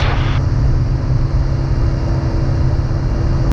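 A Montaer MC01 light aircraft engine holds a loud, steady high-rpm drone during a magneto check run-up, with a small pitch change early on.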